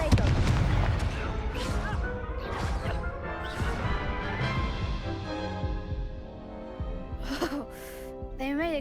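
A Confringo blasting curse explodes during a Hogwarts Legacy duel in Professor Garlick's class, with booming crashes and impacts layered over continuous music and voices that fill the whole stretch.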